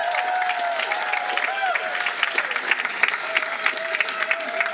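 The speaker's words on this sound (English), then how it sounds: "Yes, clap for yourselves." Graduates at a doctoral educational leadership recognition ceremony clap for themselves in steady, moderately loud applause, with scattered crowd noise and a voice speaking over it.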